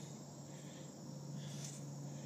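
Insects outdoors at an old campsite make a steady, faint, continuous buzzing drone around the camera, with no voices over it.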